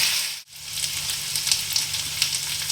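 Green chili paste sizzling and frying in a hot pan for a Bengali chhola dal and soybean dish, a steady loud crackle with a brief dip near the start and no talking.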